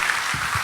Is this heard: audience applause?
yes